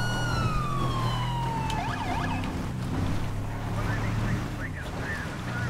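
A police car siren in GTA V with the LSPDFR mod, a park ranger's 2017 Chevy Silverado wailing and yelping in shifting patterns over steady engine and road noise.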